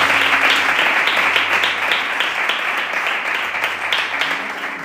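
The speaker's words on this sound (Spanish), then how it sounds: "¿Puedes dar un aplauso al Señor en esta hora?" A church congregation applauds during a sermon on the Transfiguration, a dense, steady wash of many hands clapping at close range for about five seconds without letting up.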